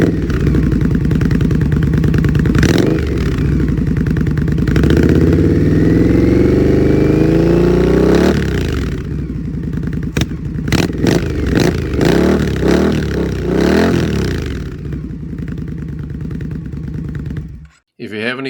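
Indian Scout Bobber motorcycle with a custom Biltwell Mohawk exhaust, heard up close and loud, revving and rising in pitch, then blipping the throttle in sharp bursts and settling back to a rumbling idle.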